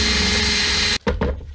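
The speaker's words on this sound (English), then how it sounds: "now I'm going to drill these holes" A power drill with a 5mm bit bores through a guitar body over a sacrificial board, a dense, loud whir that cuts off abruptly, followed by a couple of short scraping bursts.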